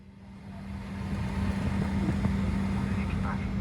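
A Flair Airlines jet takes off from runway 17 right at Calgary, a steady engine roar building in the cabin with a strong low hum throughout.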